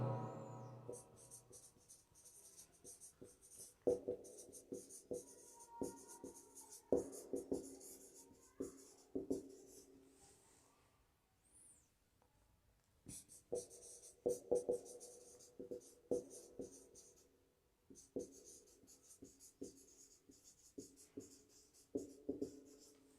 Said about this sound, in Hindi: मैं कुछ सेंटेंस लिख रहा हूं